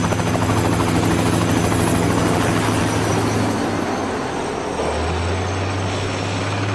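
A helicopter ferrying a load slung at the end of a long line over a construction site, its steady loud rotor and engine drone continuous throughout, with a low tone shifting partway through.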